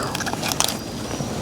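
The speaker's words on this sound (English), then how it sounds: "You heard the crunch, I'm sure." Crisp bite into a smoked spatchcocked chicken wing cooked on a Weber Master Touch kettle with a diffuser plate, a few sharp close crunches clustered together, alone without talk.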